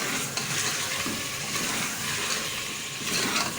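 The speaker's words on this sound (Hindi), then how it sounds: "अब इसको अच्छे से भुनेंगे" Beef frying in a pan, a steady broad sizzle with faint scraping and stirring clatter, continuous and close throughout.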